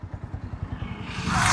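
A 350cc adventure-style motorcycle idling in second gear at low revs with no throttle, its engine shuddering in a steady pulsing rhythm while the chain knocks, close by, with a rising hiss toward the end.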